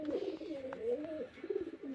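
A male paper pigeon with black eyes coos softly, giving a low, rolling, continuous burble that rises and dips alone at close range.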